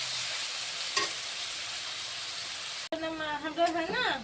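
Spice paste of ginger, garlic and chopped tomato frying in oil, a dense sizzling hiss that cuts off abruptly, followed by a person speaking over quieter cooking sounds.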